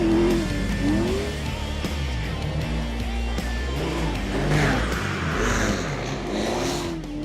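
Rally cars in the auto classes of the 2017 Dubai International Baja charge across desert sand dunes, engines roaring loud and continuous with rising and falling revs as they push for the racing line.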